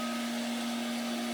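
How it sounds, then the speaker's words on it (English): A dual-head DTF printer feeds film back into itself with a steady motorized whine and broad hiss, continuous and close, with no voices. "If I push the forward button, the paper goes back into the printer"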